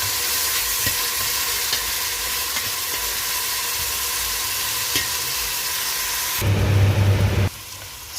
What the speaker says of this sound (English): So we are going to stir this, ensuring that our onions are coated by the oil